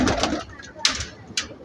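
Pigeons in a loft cooing in short low bursts, several soft calls close by, with a voice talking over them.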